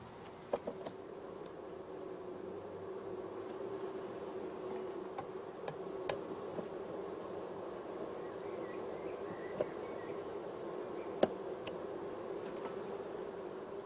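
Honey bees hum faintly and steadily inside mini-nuke queen-rearing boxes, with scattered soft ticks and taps over a low continuous drone.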